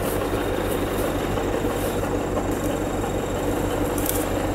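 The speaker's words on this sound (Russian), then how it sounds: "Вот так на нашем тракторе." Steady, loud droning rumble of a tractor engine running continuously up close on a trip into the forest, with faint rattles and clanks layered over the constant roar.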